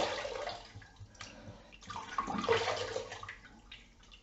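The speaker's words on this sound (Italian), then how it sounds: "mi risciacquo il viso e proviamo" Water splashing as a face is rinsed during a shave at a sink, soft sloshing and trickling, close but faint and irregular.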